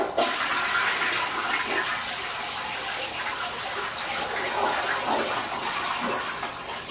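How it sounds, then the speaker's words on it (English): Home toilet flushing after its tank is filled by hand, a loud close rushing gush of water that swirls and drains steadily for several seconds, easing slightly toward the end. "when you do need to flush it, you have your reservoir full, and like I said, you can just flush it"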